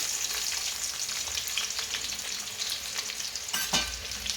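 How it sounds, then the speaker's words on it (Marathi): Onion frying in hot oil and ghee for a chicken biryani gives a steady, close sizzle throughout, with faint stirring scrapes over it. "आता तेल तापले, आपण त्यात कांदा टाकूया."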